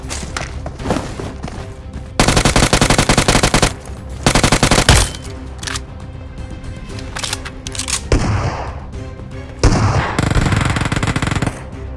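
Loud bursts of automatic gunfire in the battle royale mobile game BGMI, several sustained volleys separated by short pauses and quieter single shots, close and punchy.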